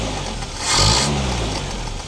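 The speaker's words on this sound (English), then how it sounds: "It's an old engine with a carburetor, so it needs to heat up for a bit before it becomes efficient and comfortable to drive as well." Old Land Rover Series engine with a carburetor warming up, heard loud and close: a steady rumble that swells into a brief rev and then settles back toward an idle.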